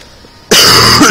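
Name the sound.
coughing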